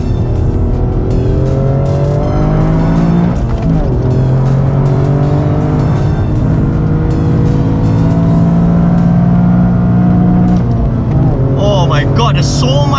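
Toyota GR Yaris driven hard around Sepang circuit: a loud, close engine note rising and dropping through gear changes, with tires squealing near the end.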